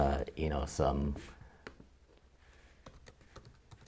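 Light typing on a Mac computer keyboard, soft scattered clicks at an irregular pace after a brief stretch of someone speaking, fairly quiet and close.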